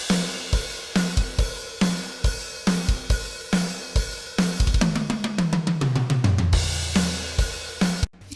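Natural, unprocessed metal drum kit from the Bogren Digital Trivium Drums plugin playing a looped groove of kick, snare and cymbals, then a fast descending tom roll and a final crash hit, open and roomy, no talking.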